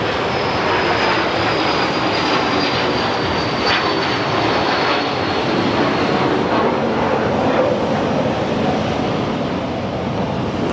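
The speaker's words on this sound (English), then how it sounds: "There's an American Airlines 777 landing" An American Airlines Boeing 777 landing at Phoenix Sky Harbor airport gives a loud, steady jet roar with a faint high engine whine, heard from outside with wind noise and no talk.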